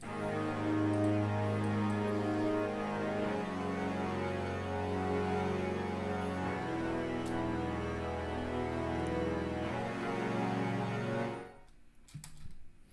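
Cinematic orchestral music in a Hans Zimmer style, produced in FL Studio Mobile, plays as dense layered sustained tones with low bass, then cuts off abruptly near the end, leaving brief faint clicks.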